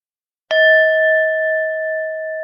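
A meditative bell strikes once with a clear, pure tone, then rings on alone and slowly fades.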